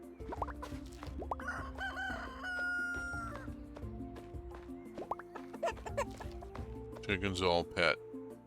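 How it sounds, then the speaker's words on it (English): Chickens in the farming game Roots of Pacha cluck and crow in a run of short calls over a game soundtrack, with a rooster crow near the middle and busier calls toward the end. "Off to pet the chickens"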